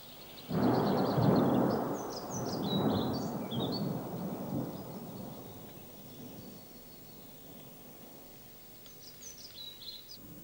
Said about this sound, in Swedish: När åskan kommer närmare vill Malcolm gå hem.